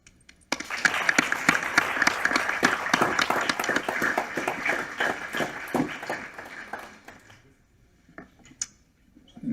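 An audience bursts into sustained applause at a business conference session, dense clapping from many hands that holds strong for several seconds, then thins out and fades to scattered claps near the end.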